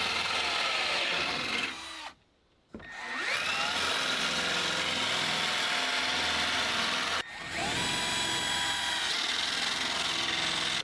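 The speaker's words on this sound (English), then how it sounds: "I'm just going to go through and pre-drill all of the holes for the hole saw all along this side" A power drill pre-drills holes in bamboo ahead of a hole saw, a loud steady whine that runs continuously, cuts off briefly twice, and then spins back up, with no voices.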